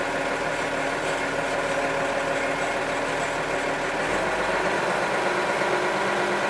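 A Case IH 7120 tractor engine idles with a steady, close diesel rumble; the low throb shifts slightly near the end as the engine speed changes.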